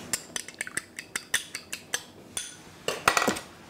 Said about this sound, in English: I beat an egg